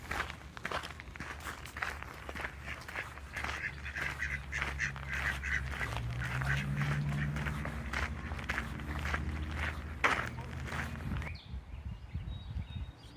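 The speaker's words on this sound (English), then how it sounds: "Oh, the duckies. Don't scare them." Ducks and geese quack and honk nearby on the Appalachian Trail while footsteps crunch steadily underneath, a busy outdoor flock sound with no talking.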